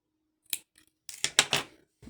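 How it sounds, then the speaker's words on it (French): Scissors snip through crochet yarn in a few crisp, close cuts, one early and a quick cluster after it, with quiet gaps between. "Je coupe le fil."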